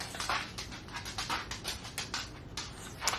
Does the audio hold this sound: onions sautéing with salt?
no